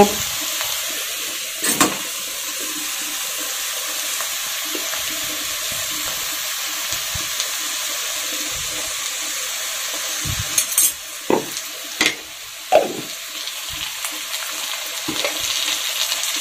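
Ghee goes into a pan of frying radish ghonto, keeping a steady sizzle going while a spoon clinks and scrapes a few times partway through.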